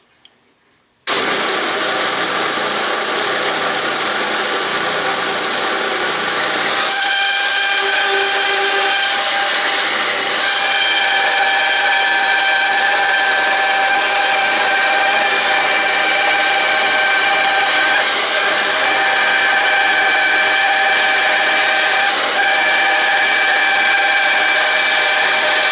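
A raker-tooth saw cuts through a piece of 1/8 inch steel, starting abruptly into a loud, continuous, high-pitched grinding whine that holds steady and close for about twenty-five seconds.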